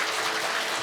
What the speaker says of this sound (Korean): 김다영 여행 컨텐츠 디렉터를 박수로 맞아보겠습니다